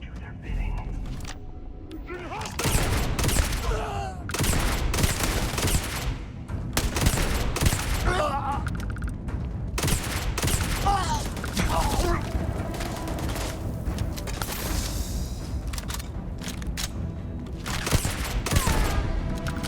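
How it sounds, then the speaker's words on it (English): Heavy shotgun blasts boom one after another in a Starfield firefight, spaced irregularly and loud, with mechanical clacks between shots and a voice talking throughout. "This shotgun's very good."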